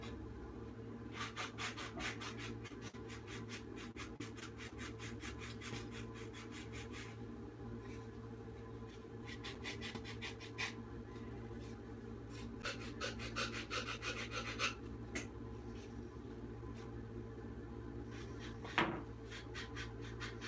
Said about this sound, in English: We're gonna sand up to that.